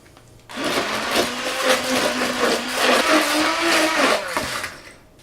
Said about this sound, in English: These handy immersion blenders are, well, handy.